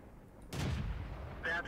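A tank gun fires in the World of Tanks video game, a single sharp, booming shot that lands after a quiet moment, followed by a brief second burst near the end.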